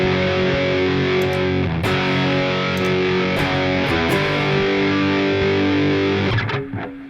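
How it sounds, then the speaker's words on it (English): An OCD overdrive pedal driving a Mesa Mark IV amp produces a loud, sustained distorted electric guitar, with thick held chords, a few brief choppy changes and a decaying tail at the end. No voices. "I'm putting the OCD in front of a Mesa Mark IV"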